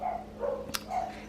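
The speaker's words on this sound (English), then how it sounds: "My dogs are going crazy." Dogs barking indoors at a delivery man, a few muffled barks and yips spread across a second or so, moderately distant and alone without talk.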